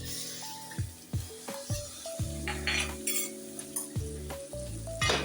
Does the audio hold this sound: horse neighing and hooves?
no